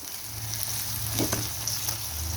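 Onion and tomato sauté with turmeric and salt for paneer thecha, giving a continuous, even sizzle with a low steady hum beneath and a brief burst of stirring midway. Nobody speaks.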